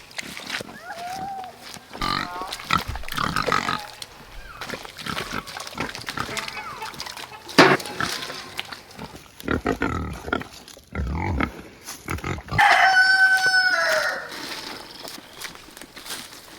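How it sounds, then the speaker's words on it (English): Pigs grunting and oinking at feeding time on a farm, with snorts and footsteps scattered across the scene and a louder squeal near the end, mixed with people talking. "We gotta go feed the pigs."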